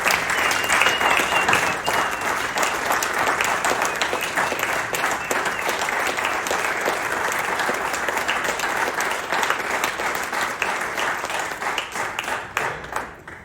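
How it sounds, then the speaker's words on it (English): A large audience at a marching band alumni birthday celebration applauds with sustained, dense clapping that holds steady for several seconds before tapering off at the end. "Can I have a round of applause?"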